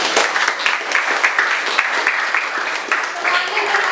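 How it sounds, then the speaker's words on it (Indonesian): A classroom of students claps for a classmate, brisk and fairly close, a lively patter of many hands that stays steady for a few seconds with voices mixed in. "beri tepuk tangan dulu untuk Saskia"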